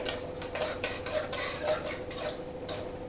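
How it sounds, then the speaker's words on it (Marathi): Peanuts roast with cumin seeds in a pan for rava upma while a spoon stirs them, giving repeated scraping strokes against the pan over a soft sizzle, close and fairly quiet, with no talk. "शेंगदाणे परतत आले की आपण घालणार आहोत कढीपत्ता, मिरचीचे तुकडे"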